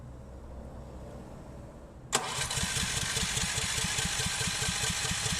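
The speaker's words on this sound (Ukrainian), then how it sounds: "Генератор вже у нас прогрітий. Нажали старт." A warmed-up Senci SC7000R generator is started by remote: after a few seconds of quiet background, the engine abruptly catches and settles into a loud, steady, throbbing run close by.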